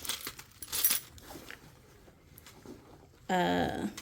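Car keys and house keys jangle in short metallic bursts near the start, while a voice talks over the rattling.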